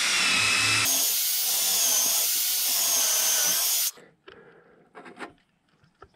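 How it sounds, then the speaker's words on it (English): A power drill whirs loudly and steadily for about three seconds, boring into material, then stops, followed by faint handling and scraping noises. "Drill myself a hole"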